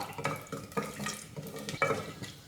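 Whole spices stirred in a pot for green peas pulao, a spoon scraping and clinking against the metal in several separate strokes, close and moderately loud, with no one talking.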